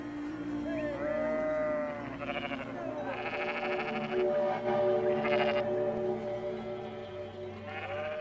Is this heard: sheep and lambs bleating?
yes